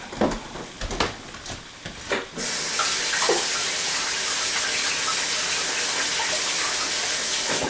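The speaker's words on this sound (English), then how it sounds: "Now, let me rinse this off." Indoors, a few handling clatters and knocks lead into a tap opening into a loud, steady gush of running water as something is rinsed off underneath, continuing strongly to the end.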